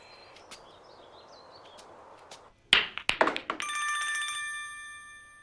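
A telephone rings indoors: after faint background sounds, a few sharp knocks and taps lead into a bright electronic bell ring lasting about a second, then fading, close and clear with no speech.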